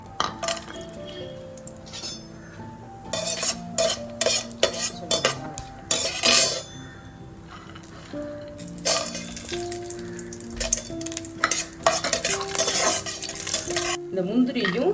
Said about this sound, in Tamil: முந்திரி பருப்பை செவக்க வறுத்துக்குவோம்